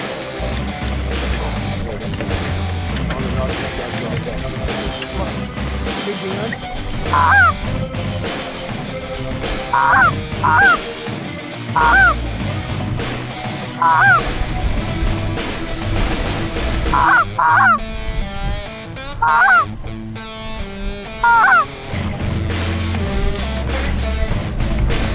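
Snow geese honk in short bursts on a winter goose hunt on the Colorado Front Range, several calls spread across a busy, noisy outdoor background with wind and movement.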